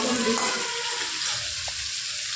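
Cauliflower pieces fry in a pan with a continuous, even sizzle close to the listener. Faint talk can be heard softly in the background.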